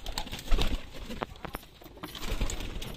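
Soft coos and fluttery sounds from pigeons and their two newly hatched chicks in a quiet room, with a few faint knocks and rustles nearby.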